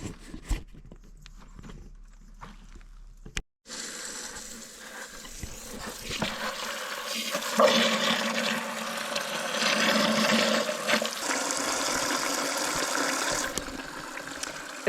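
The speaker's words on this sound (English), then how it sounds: "So I'm going to fill this with water." Water runs steadily into a container, a sustained rushing splash that starts abruptly after a few seconds of quieter outdoor background and continues loudly to the end.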